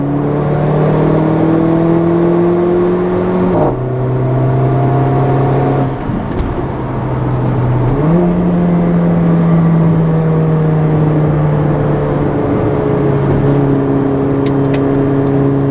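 A 2015 Mercedes-Benz GLA 45 AMG turbocharged engine pulls hard under boost, its loud droning tone climbing steadily through each gear, then dropping sharply at shifts before rising again, heard from inside the cabin.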